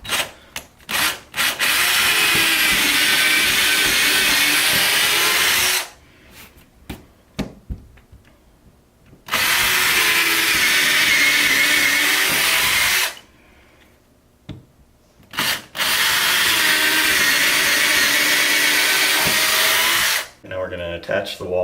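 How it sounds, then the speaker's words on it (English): Power drill boring 3/16 inch pilot holes for 1/4 inch lag screws to mount a wall plate, in three long loud bursts of steady whine separated by short quiet pauses with handling clatter. "we're going to drill 3/16 pilot holes for our 1/4 inch lag screws"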